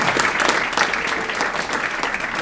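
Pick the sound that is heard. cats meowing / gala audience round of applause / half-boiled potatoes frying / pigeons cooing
gala audience round of applause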